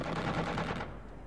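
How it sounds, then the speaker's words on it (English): An alien craft fires plasma torpedoes in the Xenonauts strategy game, a dense, loud burst of rapid crackling shots that cuts off partway and leaves a softer rumbling tail. "It's firing some kind of plasma torpedo, which does a hell of a lot of damage"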